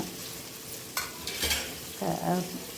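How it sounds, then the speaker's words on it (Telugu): Coriander, mint and curry leaves fry in a pan for mutton curry while a spoon stirs them, a soft sizzle broken by a couple of sharp scraping strokes and a brief louder crackle near the end. "ఇప్పుడు వేసేసి అవన్నీ కూడా వేగే వరకు తిప్పుతున్నాను"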